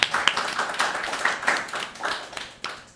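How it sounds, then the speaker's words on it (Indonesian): A classroom audience in a cyber security lecture claps for a classmate, with a scattered, uneven patter of hands that swells and fades over a few seconds before tapering off. "kita berikan tepuk tangan dulu untuk temannya"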